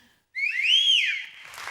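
A single short, rising-then-falling whistle from a person, clear and close, on a television dance show set, alone with no talk.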